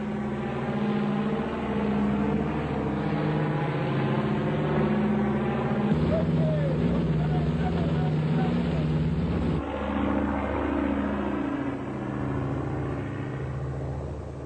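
A propeller aeroplane drones overhead as thirty French Foreign Legion paratroopers jump in tight formation at low altitude, a loud continuous engine rumble that shifts slightly in pitch as it passes.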